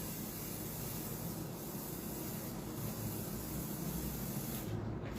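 A spray gun sprays continuously for the whole stretch, a steady broadband hiss with a hand kept moving while applying the coat, close and even throughout, no voices.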